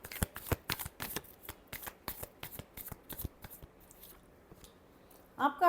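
A deck of tarot cards is riffled and shuffled in quick, close, crisp bursts, repeating rhythmically for several seconds before a short clatter at the end.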